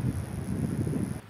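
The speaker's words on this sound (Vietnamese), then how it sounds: "Bay ở bãi này thì gió rất là to." Strong wind buffets the microphone at an open drone flying field, a steady low roaring rush that holds for about a second before cutting off abruptly.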